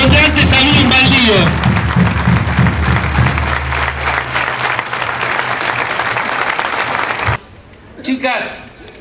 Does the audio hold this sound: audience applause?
yes